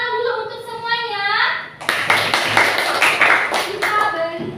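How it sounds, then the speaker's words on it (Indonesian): A school class claps together in a classroom, a burst of brisk hand claps following a teacher's voice and continuing under children's chatter. "tepuk tangan dulu untuk semuanya"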